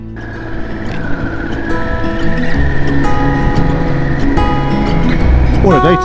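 An adventure motorbike rides along a narrow mountain pass road, its engine droning steadily with rising and falling pitch and heavy wind buffeting close by.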